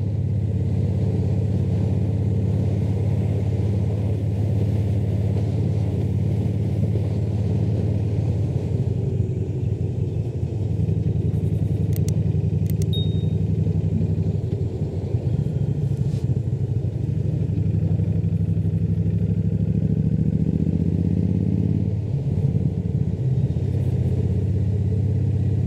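A Triumph Thunderbird 1600 motorcycle rides along country lanes, its low engine rumble and wind roar steady and continuous throughout, with gentle swells as the throttle shifts.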